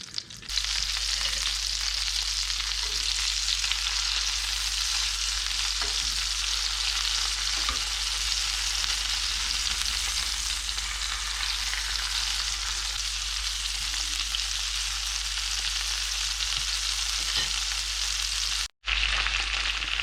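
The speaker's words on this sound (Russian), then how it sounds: "Кладем в сковороду сливочное масло, раскаляем его, после чего берем наши кусочки, обваливаем в панировке и зажариваем до золотистой корочки" Breaded hare pieces fry in hot butter in a pan, a dense, steady sizzle and crackle running loud and close throughout, with one brief dropout near the end.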